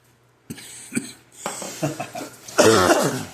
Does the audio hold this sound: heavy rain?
no